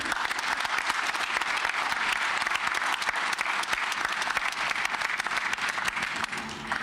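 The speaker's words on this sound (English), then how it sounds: "Give yourselves a round of applause for being here again." Steady crowd applause fills a memorial service for George Floyd in Denver, a dense, continuous wash of many clapping hands at even loudness for about seven seconds with no talk over it.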